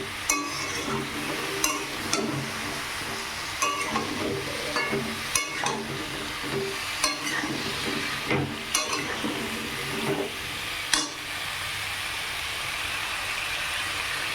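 Mixed vegetables with turmeric frying in a pan over a raised gas flame, a steady sizzle throughout with occasional sharp clinks and scrapes of a stirring utensil against the pan.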